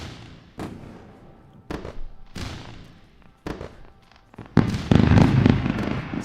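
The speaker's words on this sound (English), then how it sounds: "Let's just go ahead and trigger the fireworks." Fireworks sound effect triggered during a live trading stream: a string of sharp pops and crackling bursts at irregular intervals, swelling into a louder, denser barrage of booms toward the end.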